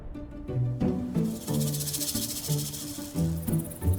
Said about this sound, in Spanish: se oye el inquietante sonido de la cola del cascabel